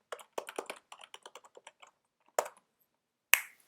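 Keys clatter on a computer keyboard in quick bursts of close, crisp clicks, then a pause, followed by two louder isolated strikes, like a heavier key being hit.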